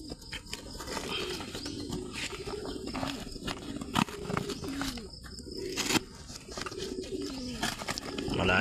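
Racing pigeons coo repeatedly at close range in soft, rolling calls over a steady outdoor background, with light rustling and occasional sharp clicks.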